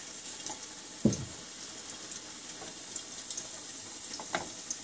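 Cumin seeds frying in hot oil for an Indian taro (arbi) curry give a steady, quiet sizzle, with a couple of sharper pops or spoon knocks standing out near the start and end.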